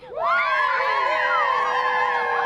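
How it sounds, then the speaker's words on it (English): A parade crowd cheers and screams loudly and continuously, with many excited voices, including children, shouting and whooping together at close range. "the crowd was excited to be back at the parade once again this year"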